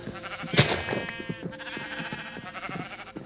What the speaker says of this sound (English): Get some more sheep over this way too.